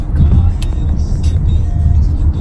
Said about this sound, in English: Beautiful New York traffic.